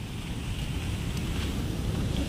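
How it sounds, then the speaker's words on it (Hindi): A steady, loud rush of water at Nath Sagar dam in Maharashtra, a broad continuous roar mixed with wind buffeting the microphone, with no voices. "आवाज सुन रहे हो पानी की।"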